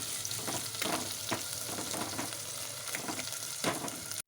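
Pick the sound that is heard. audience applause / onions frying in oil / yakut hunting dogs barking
onions frying in oil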